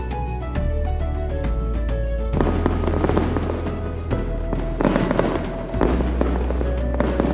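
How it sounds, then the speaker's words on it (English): Fireworks sound effect with crackling bursts and booming low pops in repeated waves, dense and loud throughout without talk. "Add a high-quality fireworks sound effect to your timeline, sync it with the visual fireworks"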